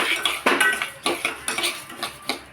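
Moong dal roasting in ghee, stirred in a pan: a quick run of about a dozen sharp metallic scrapes and clinks from a spoon against the pan, close and rhythmic, with no talking.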